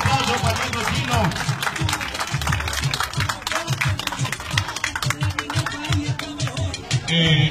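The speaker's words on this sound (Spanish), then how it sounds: "un fuerte aplauso, le den un fuerte aplauso para el chino" Applause and cheering from a crowd greeting Jonathan Ajoy's arrival at Monte Sinai, dense and continuous with loud voices mixed in throughout.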